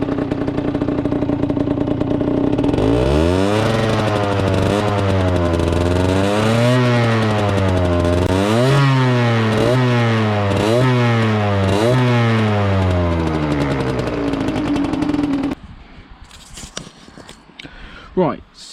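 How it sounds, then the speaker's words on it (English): A warmed-up Derbi Senda 50cc two-stroke motorcycle engine runs loud and close, buzzing and revving up and down repeatedly in rising and falling sweeps before cutting off, leaving a few faint clicks. "So the bike is now warmed up."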